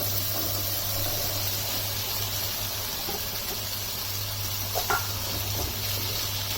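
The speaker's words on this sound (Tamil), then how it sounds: "அவரைக்காய் நல்லா வதங்கட்டும்." Broad beans sauté with tomato in a hot pan, giving a steady, even sizzle with a low constant hum underneath and a faint stir or clink near the end.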